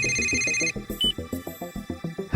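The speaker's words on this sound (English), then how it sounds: "Your phone's ringing." A phone ringtone plays as a high steady electronic tone, then a quick run of about a dozen rhythmic ringing pulses, loud and close.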